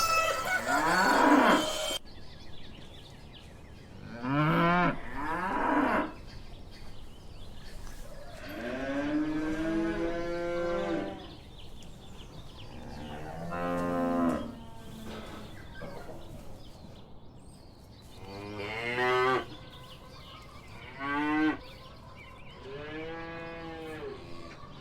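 A cow moos repeatedly in long, drawn-out lowing calls, several distinct moos spaced a few seconds apart, clear and close with quiet gaps between.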